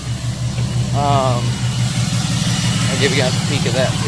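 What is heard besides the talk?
2008 Cummins 6.7L diesel truck engine running with exhaust brake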